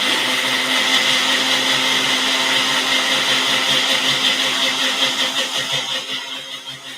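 Blender whirring steadily as it purées a vegan Caesar salad dressing, a loud, dense motor drone that holds for several seconds, then gradually fades toward the end.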